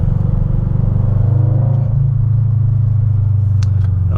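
Tuned Subaru BRZ with a JDL header, running on E85, idles with a steady low rumbling drone throughout, loud and close, with a few faint clicks near the end.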